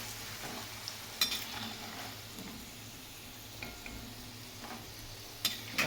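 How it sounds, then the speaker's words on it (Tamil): Garlic and onion sautéing in a pan for vatha kuzhambu, a soft steady sizzle with a few scraping stirs and light clinks scattered through, no talking. "வெள்ளை பூண்டு தனியாக வெங்காயம் தனியாக போட்டு வதக்குறீங்கன்னு சொன்னால் உங்களுக்கு வந்து பூண்டு சீக்கிரம் வதங்கிடும்"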